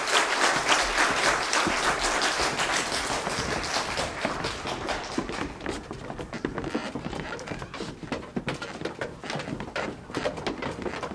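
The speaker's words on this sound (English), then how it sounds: "Please could you give the following learners a round of applause." An audience at a school prize-giving ceremony claps for prize-winning learners, dense sustained applause that starts loud and gradually thins into scattered, sharper individual claps.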